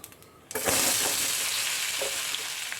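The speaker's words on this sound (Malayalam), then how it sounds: "അരിഞ്ഞു വെച്ചിരിക്കുന്ന ഉരുളക്കിഴങ്ങ് ഇട്ട് കൊടുക്കാം" Chopped potatoes hit hot coconut oil with mustard seeds, setting off a sudden loud, dense hissing sizzle that stays strong and continuous to the end.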